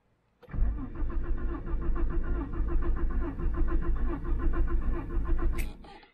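A Citroen XM with a 3-litre V6 is started without any throttle, turning over with a steady pulsing mechanical chug for several seconds before it cuts off, loud and close.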